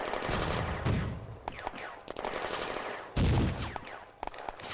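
Dense gunfire from a World War II combat video game street fight, rapid machine-gun bursts and rifle shots overlapping continuously, loud and close with sharp repeated cracks and brief pauses between volleys.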